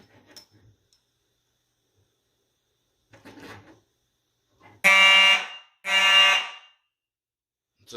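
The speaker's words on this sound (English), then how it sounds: "the carbon monoxide detectors will only trigger the horn strobes, the EMSCO horn strobes" Simplex electromechanical fire alarm horn strobes sound two loud, buzzy blasts about a second apart, after faint clicks and rustling in an otherwise quiet room.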